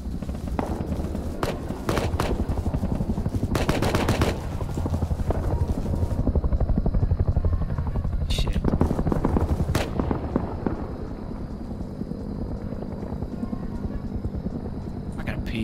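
Steady helicopter rotor drone in a video game, loud and continuous, mixed with bursts of gunfire and footsteps.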